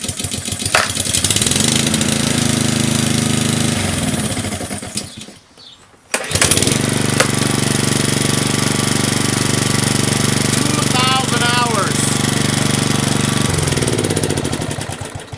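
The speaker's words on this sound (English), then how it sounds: "Let's see how these mowers start. We know a Honda starts well, right?" Honda and Toro walk-behind lawnmower engines starting one after the other: a loud, steady small-engine roar that cuts out briefly into near silence, then catches again and runs on, close by and without talk.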